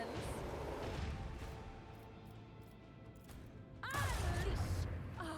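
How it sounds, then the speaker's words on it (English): Macro cannons fire in the space combat game Rogue Trader, booming heavy blasts with rumbling, mechanical tails, the loudest burst arriving near the end. "What does it do? macro cannons."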